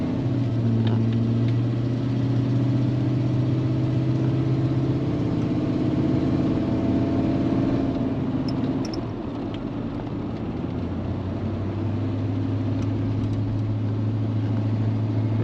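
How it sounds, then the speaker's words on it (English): A 1987 Chevy Silverado pickup truck engine idles nearby with a raspy, rumbling drone and uneven puttering from an exhaust leak, steady throughout with a brief dip midway. "it sounds like an exhaust leak rather than an actual exhaust system"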